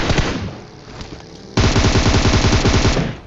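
Rapid automatic gunfire in PUBG Mobile, loud and close: a burst of quick shots, a short lull with quieter firing, then another sustained dense burst that cuts off abruptly.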